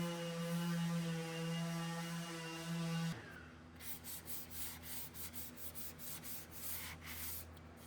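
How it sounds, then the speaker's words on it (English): A steady electrical hum gives way to rhythmic scraping strokes of a hand sander against a wall, repeating at a steady back-and-forth pace. "I did spend a little extra time with the hand sander"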